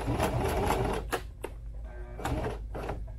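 A sewing machine lock stitches a sling saddle in loud, dense bursts of rapid mechanical clatter, with a few brief pauses and sharp clicks between runs.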